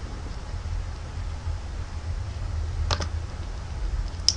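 Soft, fast tapping on a computer keyboard at a PC over a steady hiss, with a couple of sharper clicks near the end and no voices.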